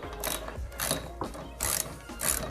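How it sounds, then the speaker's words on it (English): A ratchet tightening set screws on a garage door spring, four short bursts of rapid clicking close by, separated by brief pauses. "We've got our ratchet for the set screws."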